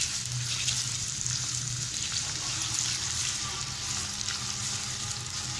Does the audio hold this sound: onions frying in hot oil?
yes